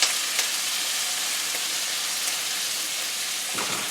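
Sliced bell peppers and half a white onion sizzle steadily in olive or vegetable oil in a pan, a dense continuous hiss with a brief stir near the end.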